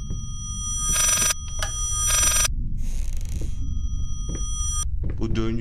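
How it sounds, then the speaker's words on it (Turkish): A telephone rings in the horror video game Layers of Fear: two loud electronic ring bursts over a low droning hum, followed by quieter tones, with a voice starting near the end. "Açamıyorum ki, çalıyorsun sen de ben açamıyorum."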